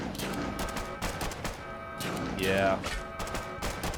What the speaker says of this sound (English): They're shooting at them before they even got there.